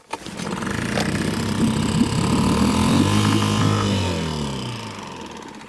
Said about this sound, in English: let's get in some deep water and get this engine on